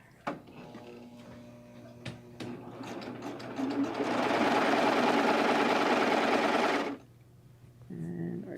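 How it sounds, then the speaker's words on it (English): A serger overlocker stitches straight across fabric for little boys' shorts, a fast steady mechanical whir that runs loud for several seconds, preceded by clicks and handling and followed by a short second burst. "So I'm going to go to the serger and do just straight across."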